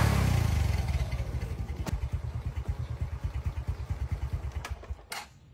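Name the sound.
Honda Wave 125 motorcycle engine starting and running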